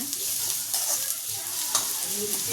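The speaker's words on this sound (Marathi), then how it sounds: "लालसर होईपर्यंत भाजते." Food roasting in a hot pan until reddish, giving a continuous bright sizzle with stirring scrapes and occasional louder knocks, close and steady throughout.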